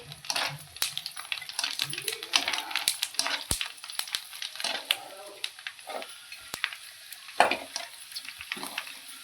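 Papad-like snacks frying in hot oil in a home kitchen, with soft crackling and bubbling, scattered clinks and scrapes of a utensil, and faint voices in the background.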